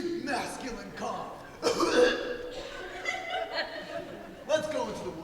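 A man's deep, chesty cough in several rough bursts, mixed with chuckling and snickering laughter, close and fairly loud in an indoor performance setting.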